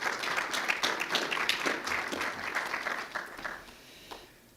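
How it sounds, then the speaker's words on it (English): Conference audience at a Campaign for Liberty event gives a round of applause, dense clapping that holds for several seconds and then thins out and fades. "Let's give each other a round of applause."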